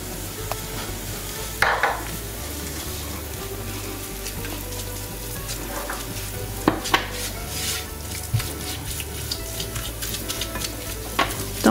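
Flour stirred into a frying sauce of oil, carrot and onion in a pan, a loud continuous sizzle broken by sharp scrapes and clinks of the utensil against the pan, close up with no speech.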